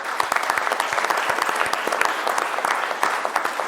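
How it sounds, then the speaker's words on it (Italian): An audience applauds in memory of the tennis coach Luigi Festa, steady dense clapping from many hands, close and continuous throughout. "lo ricordiamo con un bel applauso"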